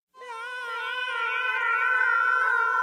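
A cartoon cat gives one long, loud drawn-out caterwauling yowl lasting nearly three seconds, clear and close with no other sound.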